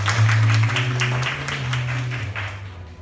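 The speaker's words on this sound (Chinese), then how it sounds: "掌声谢谢他" Audience applause at a live event introducing a Korean a cappella group's Taiwan performance, a broad wash of clapping that stays steady over a low sustained hum, fading slightly toward the end.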